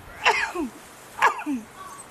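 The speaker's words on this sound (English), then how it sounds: "I'm going to sneeze." Two sneezes about a second apart, each a sharp close burst with a brief wheezy tail, from a gardener standing outdoors in the sun.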